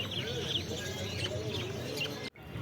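Small cage birds, cockatiels and budgies, chirp and tweet continuously at a busy outdoor bird market, a dense overlapping chorus of close and distant calls that cuts off abruptly near the end.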